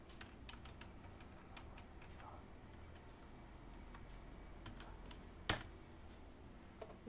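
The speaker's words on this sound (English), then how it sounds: "type the command ping space hyphen a and the IP" A ping command being typed on a computer keyboard, a quiet run of close key clicks with irregular rhythm and one louder sharp tap near the end.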